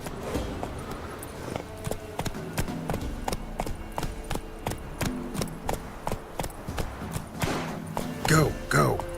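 A horse gallops in the video game Witcher 3, with steady, rhythmic hoofbeats thudding close and loud over a music bed and a brief voice near the end.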